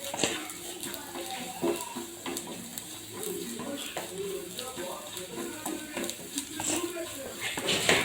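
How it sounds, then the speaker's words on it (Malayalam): A spoon scrapes and taps steadily around a pan while spiced masala with chilli, garam masala and turmeric is stirred, soft continuous rustling with light clinks and a faint sizzle, close and moderately quiet. "നന്നായി ഇളക്കി കൊടുക്കാം."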